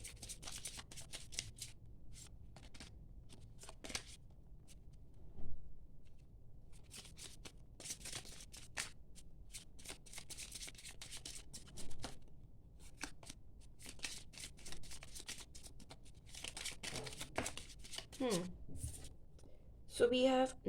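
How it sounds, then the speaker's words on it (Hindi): Tarot cards shuffled by hand in short, soft riffling bursts spread over a long quiet stretch, close but faint, with talking in between. "let me shuffle one more time, फिर उसके बाद में हम निकाल देंगे कार्ड्स"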